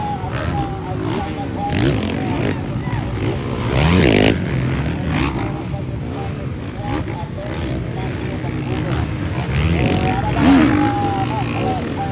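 Motorcycle engines roar and rev at high speed during a motorcycle race in Ipil, the pitch rising and falling as they pass, under excited commentary.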